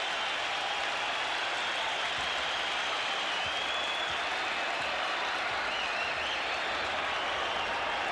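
A packed arena crowd roars steadily at a 1985 Knicks home game against the 76ers, a dense, sustained wash of cheering and applause that stays loud and even throughout.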